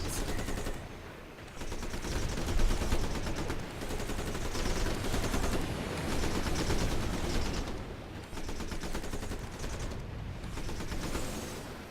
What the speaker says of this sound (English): God, these battle animations.